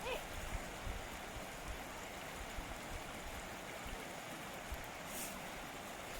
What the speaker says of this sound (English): Nice flowing sound of water.